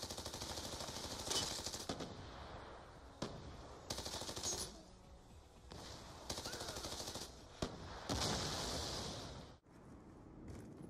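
Rapid submachine-gun fire from a Peacekeeper SMG in Black Ops 2 multiplayer, with repeated loud bursts of automatic shots separated by short pauses over steady game ambience.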